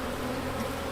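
Honeybees hum steadily at a beehive, a dense continuous buzz filling the short moment without pause or voices.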